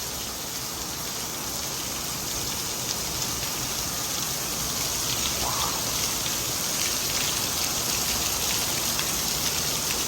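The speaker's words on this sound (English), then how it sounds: "Just the sound of rain, you could listen to that forever." Heavy rain pours steadily on a golf course during a lightning storm, a dense, constant hiss of drops hitting surfaces all around, with no voices.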